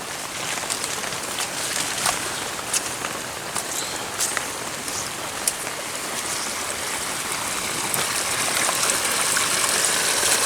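Heavy rain pours steadily over open ground while runoff gushes into water-filled pits, a dense broadband hiss with scattered close drops, swelling slightly louder toward the end.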